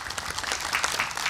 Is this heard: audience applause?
yes